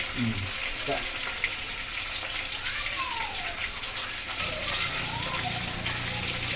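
Tilapia fish heads frying in oil make a continuous dense sizzle, like rain on a surface, with faint background sounds and no clear talk.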